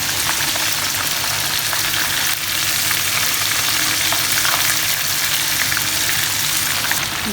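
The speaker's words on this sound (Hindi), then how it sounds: "फिर साइड चेंज करके इसी तरह मीडियम हाई फ्लेम पर हम 2 से 3 मिनट की फ्राई करेंगे" Chicken pieces for chicken mandi frying in a pan over a medium-high flame, a loud, constant close-up sizzle with crackling spatter, heard alone with no talk.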